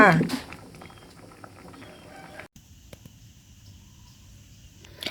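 Pea eggplants simmer in a pot of boiling water, giving a steady, soft bubbling and light patter at close range, with a brief louder clatter at the very start and no voices.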